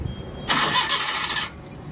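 Maruti Suzuki Omni CNG van with a starting fault: the engine cranks and catches with a sudden mid-pitched roar, runs for about a second, then dies away, heard close and loud with no talking.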